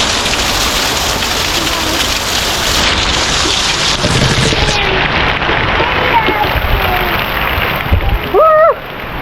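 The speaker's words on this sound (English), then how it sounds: "I'm in a waterfall." A waterfall near caves on a camping and hiking trip, heard as a loud, continuous broadband rush of falling and splashing water. Voices speak over it.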